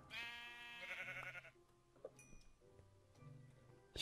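Sheep bleating in Minecraft, a clear harmonic bleat near the start and middle, followed by quieter game ambience and small ticks.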